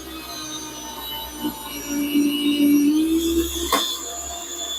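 A Valley Sportsman 7.5-inch electric meat slicer hums steadily with a rising whine as its blade spins, punctuated by a brief sharp click, close and moderately loud.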